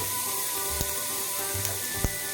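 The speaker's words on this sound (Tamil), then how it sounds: "இந்த ஸ்டேஜில் நம்ம தட்டி வச்சுருக்கிற அந்த வெள்ளைப்பூண்டை சேர்த்துக்கலாம்" Crushed garlic fries with urad dal in oil in a pan for garlic idli upma, giving a steady bright sizzle with a few soft stirring knocks, close and continuous.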